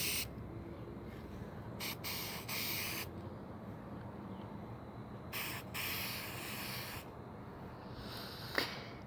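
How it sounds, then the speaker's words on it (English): Bursts of spray paint hiss from an aerosol can coating a pot in uneven, faded black, several separate sprays of a second or so each, close and steady against a constant low background rumble. "when you're spray painting, you want to judge, maybe by spray painting on something like cardboard, what kind of coat"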